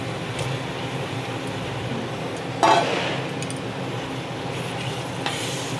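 Spinach being stirred into a paneer and pea curry in a pan, soft steady sizzling with scraping stirs and one sharp clink of a spoon against the pan partway through.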